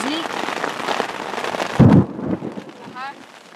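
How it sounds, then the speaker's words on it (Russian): Rain falls on a low, wet lakeside camp spot, a dense hiss under a voice speaking, with a thump partway through and a faint whistle-like tone near the end. "Ну вот, дождь пошел."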